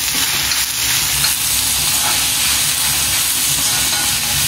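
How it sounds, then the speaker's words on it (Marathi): Finely chopped onions fry in a pan over medium gas for a prawn green masala, giving a loud, continuous close sizzle and hiss that stays even throughout with no talk. "एक मीडियम गॅसवरती कांदा एकदम कमी होईल तोपर्यंत भाजून घेऊया, गोल्डन ब्राऊन करूया त्याला"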